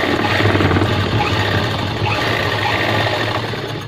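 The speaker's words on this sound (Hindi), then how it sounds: "ये हमारी जो है पट्टियाँ हैं और ये देखो ऐसे हम इनको सिलेंगे इस तरीके से।" A sewing machine stitches fabric strips for a wallet pocket on a pair of pants, giving a close, continuous rapid mechanical chatter with a low steady drone and no talking.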